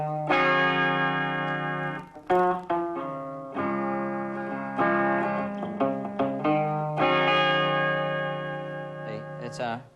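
A clean electric guitar with no effects picks out the intro of a song, ringing sustained chords and notes in a sparse rhythm with short pauses, close and clear.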